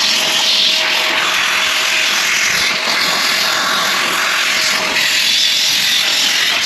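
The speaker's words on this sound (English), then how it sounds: "this is where our blower comes in handy again, guys, because now we're able to blow these areas" A handheld air blower drying crevices and trim during car detailing, a steady, loud, broadband rushing whoosh that holds without pause throughout.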